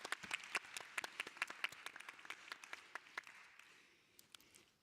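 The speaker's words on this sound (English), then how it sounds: "Let's have a round of applause for that." Applause from a conference audience in the plenary hall at IGF 2025: dense, moderately distant clapping that thins out and fades over the last second, with no voices over it.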